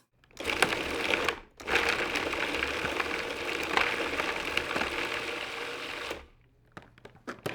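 A food processor grinds Pecorino cheese into fine crumbs, a steady whirring roar that starts, stops briefly, then runs for several seconds before cutting off, followed by light rattling.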